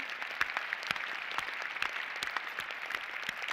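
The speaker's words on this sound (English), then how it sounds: "Let's give them a round of applause." An audience at a science awards ceremony applauds mentors and families, with scattered, distinct hand claps standing out over a softer, steady background of clapping.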